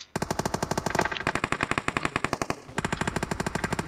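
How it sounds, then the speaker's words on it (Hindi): Rapid automatic gunfire in the mobile shooter BGMI rattles out in dense, fast bursts, loud and close, with a short break near the middle before the shooting picks up again; no talking is heard. "गोली चला रहा हूँ।"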